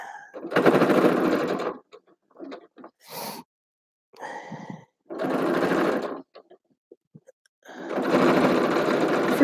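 A sewing machine stitching plushie fabric in several bursts of fast, steady running, loud and close, separated by short pauses with small mechanical clicks.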